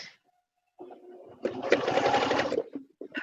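Sewing machine stitching along the edge of a fabric tray, one steady close-up run of about a second, mechanical whir with rapid stitching rhythm, framed by quiet moments and a few small clicks; no talking.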